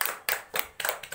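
Classroom applause from a primary school class: a brief, dense burst of many hands clapping in uneven waves, fairly faint, with no talking.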